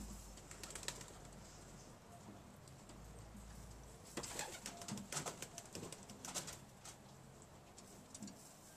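Young pigeons in a loft pecking at chard leaves: faint soft cooing and bird sounds with bursts of fluttering, rustling and clattering, quiet and close, with no talking.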